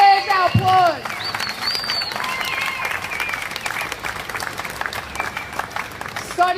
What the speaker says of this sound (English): Yes, that deserves our